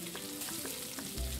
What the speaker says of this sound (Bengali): উচ্ছে ভেজে নেব